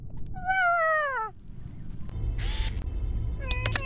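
Video game cat meows, a long rising and falling meow followed by shorter chirpy mews, with a brief burst of noise between them, moderately close and clear.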